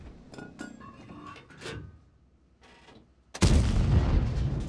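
Object 274a tank cannon in World of Tanks fires once with a sudden loud blast that sustains as a rumbling roar, following quieter mechanical clanks and scattered game sounds.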